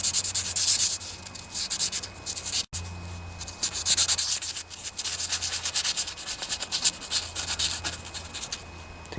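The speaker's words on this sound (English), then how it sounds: "Not real easy to sand a ball bearing" A ball bearing from a Snapper riding lawnmower is sanded by hand in rapid back-and-forth rasping strokes, close and fairly loud, with a brief pause partway through.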